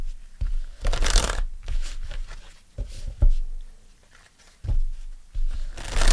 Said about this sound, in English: So let's pull some cards with that.